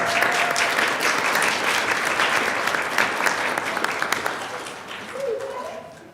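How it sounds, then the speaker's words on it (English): A crowd applauds steadily at a High Point city council meeting as honorees from a Delta Kappa Zeta chapter come forward, the clapping dense and sustained, tapering slightly, with a brief voice sounding through it near the end. "please clap for them as they come forward, please."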